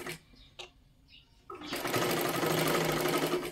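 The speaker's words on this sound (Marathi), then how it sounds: "अशा पद्धतीने पूर्ण शिलाई करून घ्यायची आहे" A sewing machine stitches a half-inch shoulder seam on a princess-cut blouse, starting with a few short taps, then running in a steady loud whir for about two seconds.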